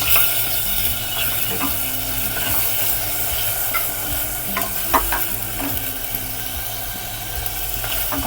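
Ginger-garlic paste fries in desi ghee with a steady, dense sizzle, while a spoon stirs and scrapes the pan in occasional sharp clicks throughout.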